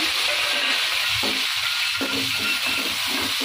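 Onions frying in oil with fennel seeds and star anise, a continuous bright sizzle with soft scraping stirs from about the midpoint onward, no talking.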